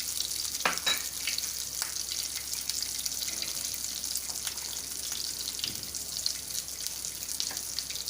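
A ground onion, tomato and cashew gravy fries in a pan with a soft, steady sizzle, broken by a few light stirring scrapes, fairly quiet and with no talking.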